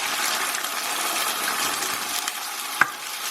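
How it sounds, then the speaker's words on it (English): Water hisses and sizzles into a hot pan of chicken, mushroom and broccoli stir-fry in a steady, bright spatter, with a single sharp clink near the end. "I'm going to add about half a cup of water."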